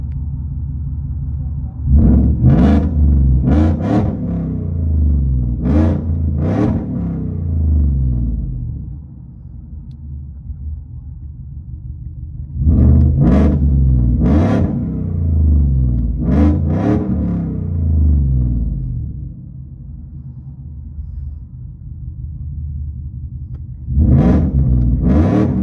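An E85-tuned Ford F-150 with a 5.0L V8, long-tube headers and Dynomax Race Bullet mufflers, heard from inside the cab, deep rumbling idle broken by three sets of sharp, loud revs to about 3,000 RPM.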